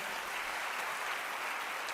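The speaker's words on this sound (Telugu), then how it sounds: "ఒకసారి చప్పట్లు కొట్టి ఆ సహోదరుని అభినందిద్దాం" Church congregation clapping together in steady, even applause, moderately distant and continuous throughout, with no voices over it.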